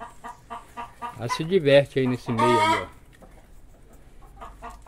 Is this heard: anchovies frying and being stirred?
no